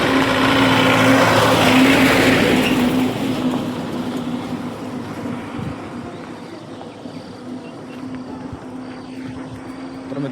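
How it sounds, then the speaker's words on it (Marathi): A car on a village road comes up loud with a steady engine drone, then fades and thins as it moves on past. "गाडी येते समोरून, आपण बघूया"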